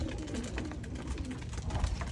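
Pigeons cooing steadily at close range among breeding birds and their growing young, soft continuous throaty coos with no talking.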